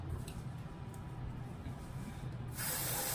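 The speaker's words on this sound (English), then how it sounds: "now we need to spray some deodorant on" A short hiss of spray from an aerosol deodorant can bursts out near the end after quiet rustling, close and fairly soft.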